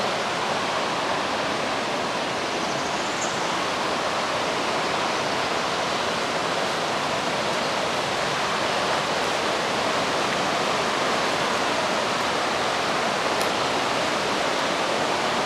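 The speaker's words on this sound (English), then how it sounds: "On an average day, 288 million gallons of water flow from the spring" Water pouring out of a large natural spring makes a dense, continuous roaring rush, loud and unbroken throughout, with no voices.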